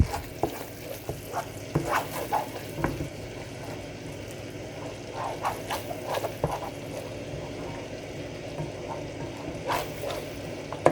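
Cheese stirred into a simmering vodka sauce in a pan, with repeated soft scraping strokes over a steady bubbling sizzle, close up.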